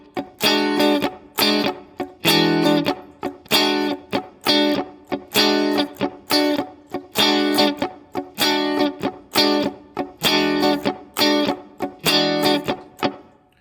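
A funk guitar plays a choppy strumming pattern of lone down and up strums mixed with strum pairs, tight rhythmic chops with a driven, effected tone, repeating steadily and close with no talk.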